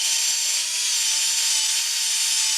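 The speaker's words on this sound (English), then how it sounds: "we're basically just gonna have to drill out this whole entire middle section here." A drill bores out the middle section of a zero turn mower part, a steady, high-pitched whirring grind held continuously and close, with no voices.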